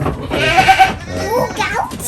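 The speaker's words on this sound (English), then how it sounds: "a nice little herd of goats here" Goats in a small herd bleat repeatedly on a rural startup farm in St. Andrew, Jamaica, loud and close, with a few overlapping wavering cries and a voice speaking nearby.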